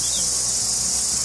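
Cicadas sing on a New Zealand summer day, a dense, steady high-pitched buzzing drone that stays loud and unbroken from start to finish, with no voices over it.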